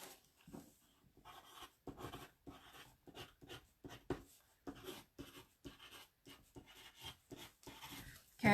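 A name being handwritten on paper, pen strokes scratching in short rhythmic bursts with brief pauses, close and fairly quiet, with no voices.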